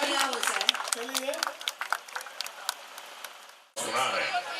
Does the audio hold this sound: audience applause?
yes